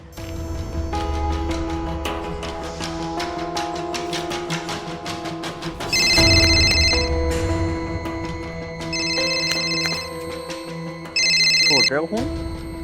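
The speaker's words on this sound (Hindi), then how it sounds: "भैया को फ़ोन करके पूछता हूँ" A telephone rings repeatedly during a phone call, sounding in bright trilling bursts over steady background music, close and fairly loud.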